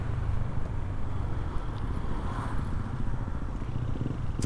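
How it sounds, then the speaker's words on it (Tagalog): Tricycles, cars and motorcycles roll past on a road in Taytay, Rizal, a steady close rumble of engines and tyres with no speech over it. "kita nyo no, mga tricycle lang, kotse, motor"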